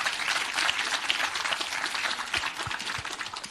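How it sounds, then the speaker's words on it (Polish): A crowd at an open public meeting in Łomża with Szymon Hołownia breaks into steady, dense applause, a continuous wash of many hands clapping at moderate distance for the full stretch. "Brawa dla pana."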